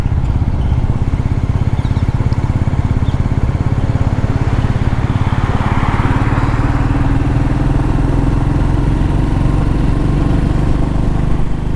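Royal Enfield Meteor 350 single-cylinder engine cruising in 5th gear at about 40 km/h, a steady, loud, low thumping drone with wind rush that holds evenly throughout.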